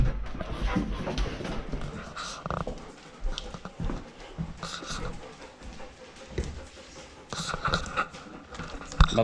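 Several big dogs pant heavily and shuffle about close by, with bursts of breathing and movement noise rising and falling throughout.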